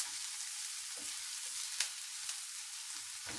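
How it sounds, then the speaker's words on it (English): Chopped onions sauté in a hot pan as the base for mussels in white wine butter sauce, giving a steady close sizzle with a few soft stirring knocks and no talking. "always start with your onions first, saute them a little bit"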